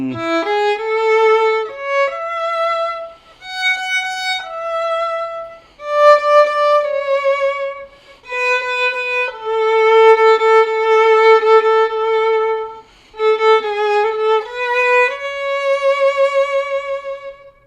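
A solo violin plays a flowing melody of sustained, vibrato-rich notes in phrases, fingered with the fourth finger instead of open strings, clear and close, with short breaths between phrases.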